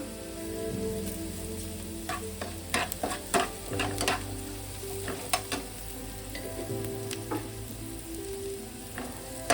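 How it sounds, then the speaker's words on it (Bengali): Paneer sandwich filling being stirred in a frying pan, with a steady low sizzle and scattered scraping clicks of the spatula against the pan, moderately close and with no talking. "মিনিট 2 ধরে একটু এটা নেড়ে নেব।"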